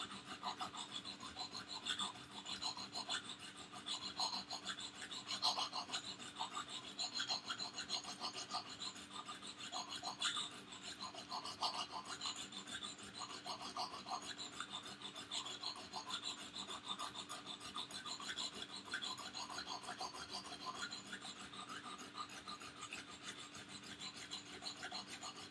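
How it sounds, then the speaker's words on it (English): A steady, faint grinding rasp as a blade bevel is ground even, continuous and close with a rhythmic scraping texture and no voices. "So as I'm grinding, I can see the bevel starting to get uniform and even"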